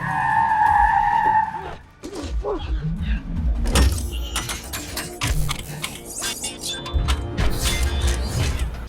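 Car chase in the 2007 Transformers film: tires screech in a long skid, followed by engine roar, crashes and clattering impacts, loud and busy, with voices talking over the action.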